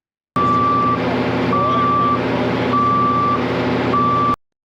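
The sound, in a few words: low water alarm beeping on jetting truck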